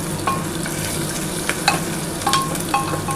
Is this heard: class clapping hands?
no